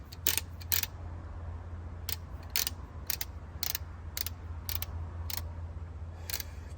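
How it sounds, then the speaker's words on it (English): A torque wrench being reset during engine assembly gives a string of sharp, irregular mechanical clicks, about a dozen over several seconds, above a steady low hum. "reset the torque wrench."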